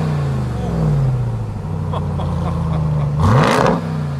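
Dodge Ram TRX Mammoth 900 truck with a stock exhaust idles with a deep, loud rumble, then blips its engine in a brief rev near the end before settling back to a heavy idle.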